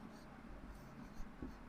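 A pen scratches quietly across paper in short strokes while a math problem is worked out, faint and close, with a voice speaking softly underneath.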